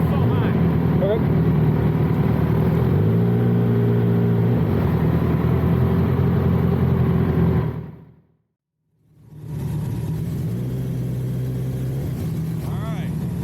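Motorcycle engine revving during a rider training course, a steady loud mid-pitched engine drone with rising and falling revs, cut off by a brief dropout before resuming.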